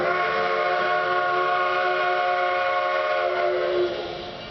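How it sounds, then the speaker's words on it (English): Steam locomotive 486 at the lead of the 6 o'clock train pulling into the Durango station, a loud sustained multi-tone whistle blast sounding over rolling train noise before fading near the end. "now we go back outside to see the steam trains arrive"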